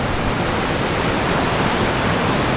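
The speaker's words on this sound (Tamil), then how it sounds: "இது காவேரி ரிவர் சிவனசமுத்ரான்னு ஃபால்ஸ் சொல்லுவாங்க." Roaring Shivanasamudra waterfall on the Kaveri river, swollen with rainwater, pours as a loud, steady broadband rush that holds unbroken throughout with no voices.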